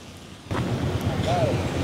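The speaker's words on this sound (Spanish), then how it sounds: "Es una tormenta" Hurricane Beryl over the Caribbean near Santo Domingo brings a storm that starts abruptly into a loud, continuous roar of wind and rain, with a faint voice underneath.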